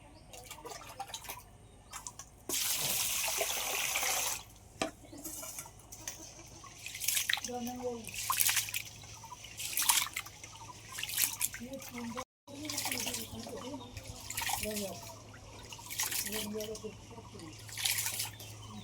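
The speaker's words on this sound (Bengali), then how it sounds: "এবার চালটা আমি ভালো করে ধুয়ে নেব" Five hundred grams of bashkathi rice being washed by hand in water, with splashing, swishing and dripping sounds running throughout, heard close and mostly under a person talking.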